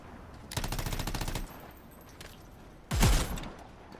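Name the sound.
shotgun gunfire in the video game Anthem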